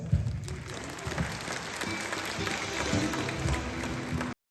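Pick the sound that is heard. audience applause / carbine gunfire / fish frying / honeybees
audience applause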